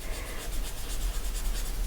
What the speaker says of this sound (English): just kind of blending it with the stick